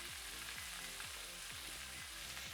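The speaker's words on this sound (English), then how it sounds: "Let's get the garlic in here. Hear that sizzle?" Garlic cloves sizzle steadily in a hot pan alongside pork chops, a dense, even crackling fry heard close and fairly quiet, with no voices.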